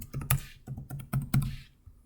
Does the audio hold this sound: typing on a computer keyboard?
yes